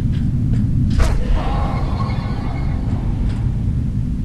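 An evil, inhuman scream in the video game F.E.A.R. 2 wails out in a shrill, whinny-like cry lasting about a second, riding over a deep, constant rumble.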